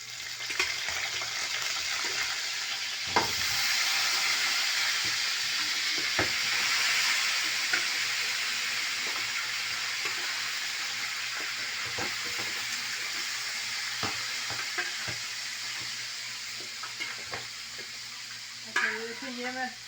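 Mutton frying in a pot with onions, a constant hissing sizzle broken by repeated stirring scrapes and knocks of a spoon against the pot, close up, with a brief clatter near the end.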